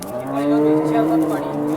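A dairy cow moos loudly and close by at a busy cattle market in Baramati, one sustained low bellow over the crowd's background murmur.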